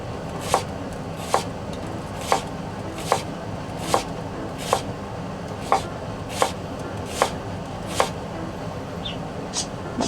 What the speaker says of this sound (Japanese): ネギ自体はちょっと薄くカットしていきます